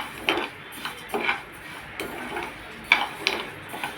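Moong dal dry-roasts in a pan without oil while a spoon stirs and scrapes it, making light, irregular taps and scrapes against the metal at a steady pace, with no talking.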